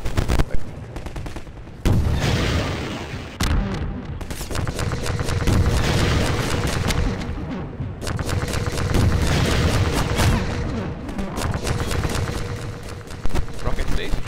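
Rocket explosions and gunfire in Half-Life 2 come as loud, sharp bursts of rapid shots and heavy booms, broken by short pauses, with people talking among the blasts.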